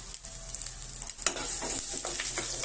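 Chopped ginger fries in a hot pan: a constant close sizzle with occasional stirring scrapes and small crackles, and no voices.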